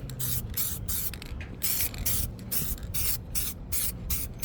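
Satin spray paint hisses from a can onto dash pieces outdoors in the heat, a run of quick, close bursts repeating steadily over a low background rumble.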